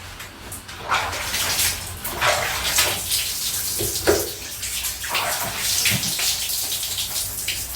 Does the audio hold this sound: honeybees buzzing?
no